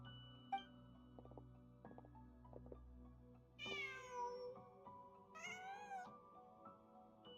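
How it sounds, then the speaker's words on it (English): A cat in the Genshin Impact video game meows twice, each call a clear, drawn-out and fairly loud mew rising over a low ambient hum with soft scattered clicks and no talking. "Just a cat."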